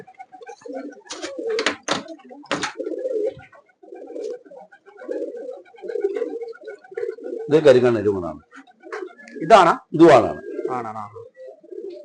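Pigeons coo repeatedly in a loft in Palakkad, their soft throaty calls forming a steady close background, with several louder, fuller coos rising near the end while someone talks over them.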